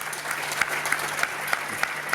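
Short burst of audience applause welcoming a tenor to a concert-lecture, steady clapping at moderate distance with a few sharper individual claps standing out.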